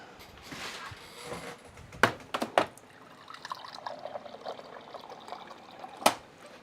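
Water pours and trickles into a container, a soft continuous liquid stream broken by a few sharp clinks and knocks of the vessel, close and fairly quiet.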